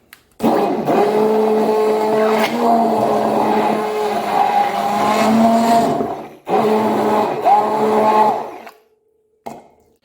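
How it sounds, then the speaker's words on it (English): A stick blender whirs loudly and steadily for several seconds in a jug of stock mixture, pauses, then runs again briefly before a final short burst. "by using a stick blender, I'm going to blend it all up."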